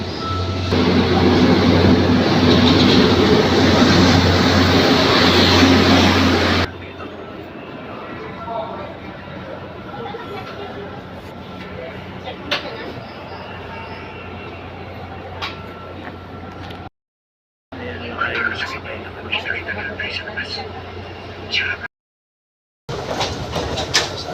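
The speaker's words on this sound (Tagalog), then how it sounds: "parating na yung 5:11, parating na yung tren" A loud rumbling PNR commuter train roars in at first, then fades into a quieter Philippine station background with scattered clatter and brief cuts to silence.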